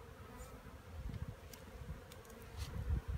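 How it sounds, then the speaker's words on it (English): A low, steady buzzing drone of many honeybees making orientation flights in front of their hive, with a few louder swells as individuals pass near. "with the bees flying around"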